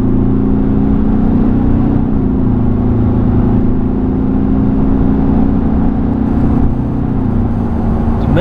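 Interior of a Ford Ranger pickup driving at speed, a loud steady engine drone and road rumble with subtle pitch changes as the automatic gearbox shifts smoothly.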